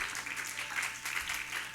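A church congregation clapping along in a dense, steady wash of many hands, sustained and fairly loud throughout with no single voice standing out.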